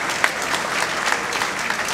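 Audience applause at an evening music and vocal festival, dense steady clapping from a crowd filling the moment with no voices.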